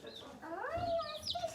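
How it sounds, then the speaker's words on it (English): Chickens in a new backyard coop give a short, fairly quiet run of clucks and one drawn-out rising call, heard alone and close by. "Look, there they are. Our little chickens."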